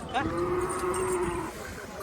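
Bull at a cattle market in Patoda, one loud, drawn-out moo lasting over a second, close by, with market noise behind it.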